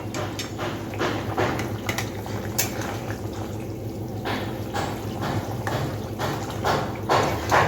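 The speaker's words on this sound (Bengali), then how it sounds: "মাছের ঝোল কিন্তু খুব সুন্দর করে ফুটতে শুরু করেছে" Thin fish curry with potatoes and eggplant bubbles in a pot, soft, irregular popping and gurgling bursts at close range, fairly quiet and continuous.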